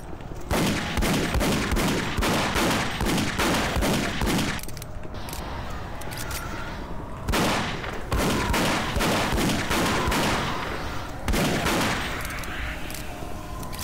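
Sustained rapid gunfire from the shooter game DOOM 3 roars almost continuously in loud, dense bursts, broken by brief pauses before each new volley.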